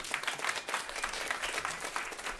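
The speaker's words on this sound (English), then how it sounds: "Give him a round of applause." Audience applause for a panel speaker at a food waste climate action event, a steady dense wash of many hands clapping throughout, fairly loud and close.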